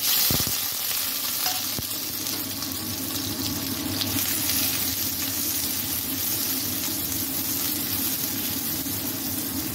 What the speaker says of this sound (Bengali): প্রথমে আমি আলুগুলো ফ্রাই করে নেব অল্প একটু তেল দিয়ে